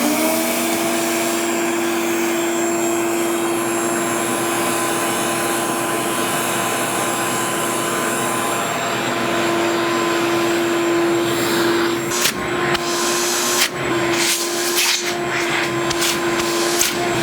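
A vacuum cleaner fitted with a Dustopper dust separator runs continuously with a loud steady whine while sucking up blue flour, with a few brief bumps and clatters of the tool toward the end.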